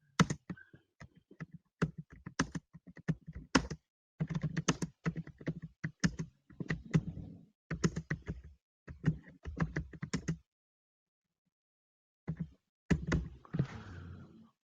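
Someone types on a computer keyboard in bursts of quick, close key clicks, with a pause of a couple of seconds before the tapping resumes.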